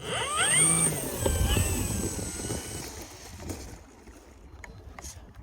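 An electric motor on a tailwheel RC airplane whines up and holds a rising, gliding tone outdoors, loud at first and then easing off, with a brief voice early on.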